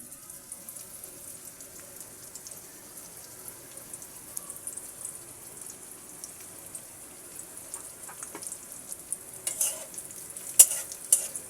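Onion and green chili fry in oil in a wok with a quiet, steady crackling sizzle, growing louder toward the end with sharper spatters and stirring scrapes, with no talk.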